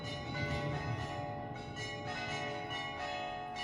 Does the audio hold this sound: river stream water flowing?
no